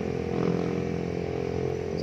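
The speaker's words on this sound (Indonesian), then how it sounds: "Banyak motor sih mas" Motorcycles run past a busy relocated market in Blitar, a steady continuous engine drone filling the background with people talking nearby.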